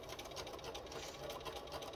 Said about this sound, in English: sew my 1/4 inch seam